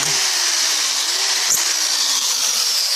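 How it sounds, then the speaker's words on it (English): An electric drill whines steadily at high speed throughout, drilling holes for a coke can stove, with a brief bump in pitch partway through as the bit bites. "And you take your drill and you drill them all."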